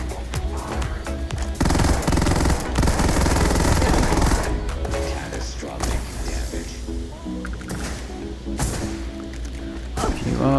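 Buzzcut weapon from Starfield firing in rapid bursts, a dense automatic clatter of shots with thumps, loud and close, stopping and restarting over game music.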